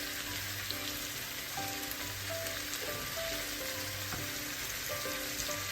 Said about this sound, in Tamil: சோஸ் எல்லாம் நன்றாக வறுத்தி விட்டது